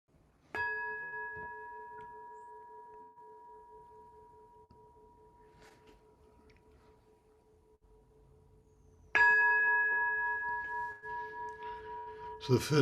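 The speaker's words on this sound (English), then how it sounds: "using my handy bell, a handy great temple bell" A large temple bell struck twice, each strike a clear resonant tone with a long, slowly fading hum, heard close and fairly alone in a quiet room.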